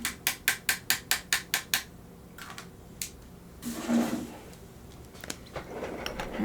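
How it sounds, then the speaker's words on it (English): A pencil is sharpened in a crank sharpener, producing a quick run of about eight loud, evenly spaced ratcheting clicks followed by softer handling and rustling noises. "So I gotta sharpen this again."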